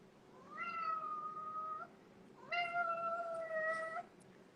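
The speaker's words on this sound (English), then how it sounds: "Look at the cat, everybody." A cat meows twice, close and clear, each a long drawn-out wail of over a second, separated by a short pause, with no talking over it.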